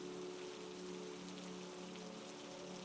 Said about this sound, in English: The sound of rain grew louder